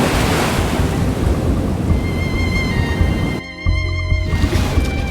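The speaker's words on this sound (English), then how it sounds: "How did we end up in the ocean?" Ocean waves in the video game Love and Deepspace give a loud, steady wash of surf with wind-like rushing, which briefly dips and turns quieter near the end as a ringing musical tone comes through.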